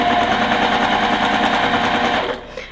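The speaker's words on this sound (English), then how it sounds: "now we're going to go ahead and press those and sew the other side on." A sewing machine stitching a seam on a quilt block, a loud, fast, steady mechanical whir of needle strokes running continuously before slowing and stopping near the end.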